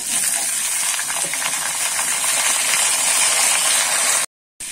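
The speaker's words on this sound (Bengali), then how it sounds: "ওই তেলেতেই কিন্তু আমি ঝিঙেগুলো একটু ভেজে নেব হালকা করে।" Sliced ridge gourd fries lightly in oil left over from frying potatoes, giving a steady, loud, close hiss of crackling sizzle that runs without a break until a brief cut near the end.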